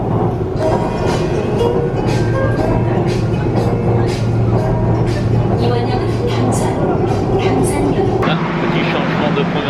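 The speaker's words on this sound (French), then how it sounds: "Là, j'attends le métro" A Seoul metro subway train rumbles steadily through a station, a dense roar and rattle that shifts near the end, with people talking over it.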